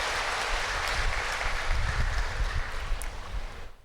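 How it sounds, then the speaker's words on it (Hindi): An audience at a spiritual talk claps together in steady, dense applause that holds for several seconds before fading out. "अपने लिए ताली बजा सकते हैं।"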